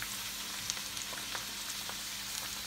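Chopped onions sizzle and fry in olive oil in a pan, a steady close crackle with small pops and occasional stirring.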